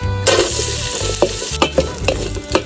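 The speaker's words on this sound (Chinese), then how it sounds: "放入牛肉干，" Beef jerky stir-fried in a hot pan in a Mongolian kitchen: a steady close sizzle with repeated scraping strokes and metallic taps from the stirring utensil.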